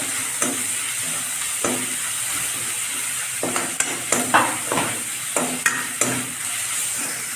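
Onion paste and green chilies frying in oil in a pan while being stirred, a constant sizzling hiss with irregular scraping strokes of the spoon growing busier toward the end, no talk.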